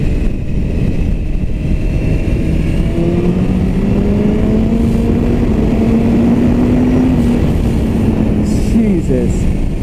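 A 2017 BMW S1000RR motorcycle pulls hard as its engine pitch climbs in long rising sweeps, broken by smooth quick upshifts with auto-blip near the end. The exhaust is loud and close, with a rider's voice heard under it.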